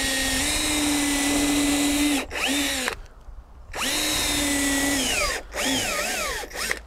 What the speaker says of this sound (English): So we just use power drills here.